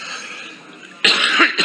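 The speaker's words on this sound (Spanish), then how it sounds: "que me está dando la tos" A man on a Spanish sports radio show coughs sharply and abruptly a couple of times after a stretch of quieter background sound, the bursts loud and close.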